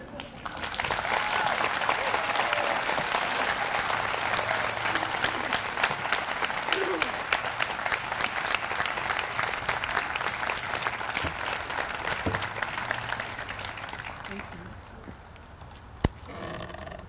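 Sustained audience applause at a school graduation ceremony, a steady dense wash of many hands clapping for about fourteen seconds before tapering off, with faint crowd murmur underneath.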